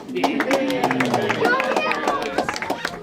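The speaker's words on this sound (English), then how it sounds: "give a round of applause" A tour group at the Mystery Spot in Santa Cruz, California gives a round of applause, quick close claps rattling steadily under lively chatter and talking voices.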